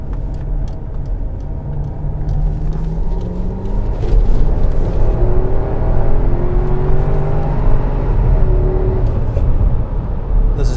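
A 2005 Porsche Cayenne Turbo with 150K miles drives along, its engine humming smoothly and then building in pitch as it accelerates, with steady road and wind whir heard up close.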